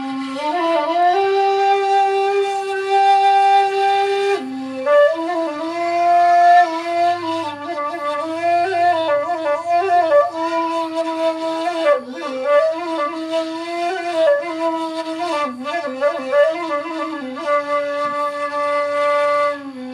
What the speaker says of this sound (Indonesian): salah satu alat tiup tradisional Minangkabau yang terbuat dari bambu, yang bambunya sudah matang dan dikeringkan